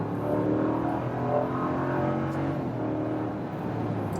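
A 2021 Ram 1500 pickup with a 5.7-liter Hemi V8 accelerates hard from a rolling start, a steady engine drone heard from inside the cab with no talk.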